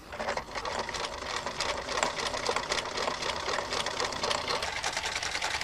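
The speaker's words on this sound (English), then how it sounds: "by combining sideways needle movements with variable cloth feed movements, all sorts of fancy stitches become possible" A sewing machine running with cam-driven sideways needle movements and variable cloth feed for fancy stitches, a fast continuous mechanical whirring chatter, close and steady throughout.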